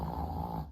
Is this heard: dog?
yes